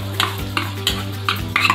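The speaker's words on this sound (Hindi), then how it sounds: "तो यहाँ पे हम अभी सबसे पहले गार्लिक फ्राई कर रहे हैं।" Garlic frying in butter in a pan, with a steady low sizzle under about four sharp scrapes of a spoon against the pan.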